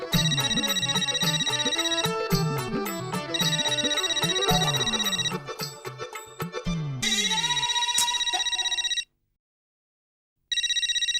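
A telephone rings with a bright electronic ringtone melody, loud and repeating in phrases, then stops briefly before starting again; no talking.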